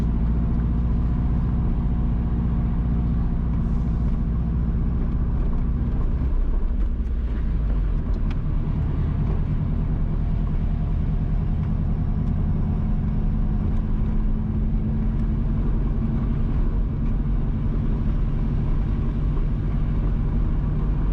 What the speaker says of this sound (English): We are driving on the Crofts Hill to Kellits Road.